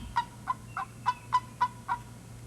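A wild turkey in spring gobbles in a quick run of seven sharp, evenly spaced calls, fairly close and clear over a low steady background hum.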